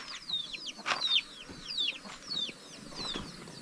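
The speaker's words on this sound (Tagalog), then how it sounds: "Dito yung mga alagang manok ni Pilimon." Pilimon's pet chickens call in a steady run of short, high, repeated clucks and chirps, fairly close, with no voices among them.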